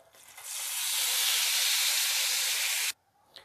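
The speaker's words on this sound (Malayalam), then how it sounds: "ഇത് ഓയിലിൽ ഫ്രൈ ആക്കി എടുക്കുക." A sweet cream cheese samosa fries in hot oil, giving a loud, close, steady hissing sizzle. The sizzle swells up, holds for about two and a half seconds, then cuts off abruptly.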